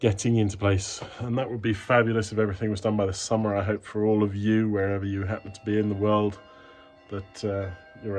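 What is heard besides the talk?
No everyday noise stands out behind the speech.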